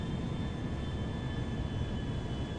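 Steady, loud engine roar of an Airbus A340-300 mod airliner flying low over a port in GTA 5 on approach, a constant broadband rumble with faint high whine tones, no talk.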